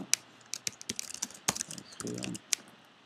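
Quick, irregular clicking of keys on a computer keyboard, close and moderately loud, with a short rattling run of presses midway and a few sharper isolated taps.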